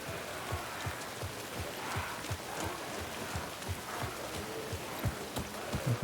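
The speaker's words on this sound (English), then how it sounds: "It's raining, but not in like a dark, stormy, in like that weird summer way where it rains" Steady rain falling in the video game Alan Wake 2, a soft continuous hiss with scattered heavier drops and faint low thumps, no voices.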